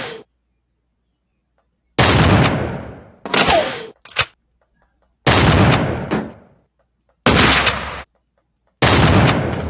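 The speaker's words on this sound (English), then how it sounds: "Okay, now you start shooting." Bursts of gunfire in the video game Madness Combat Nexus, several loud rapid volleys separated by short silences, each burst cutting off abruptly, with no talking over it.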